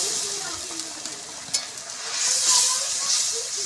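Fish drops into bubbling curry sauce in a village kitchen, giving a steady soft hiss and sizzle with faint bubbling and a few small clinks, no talking.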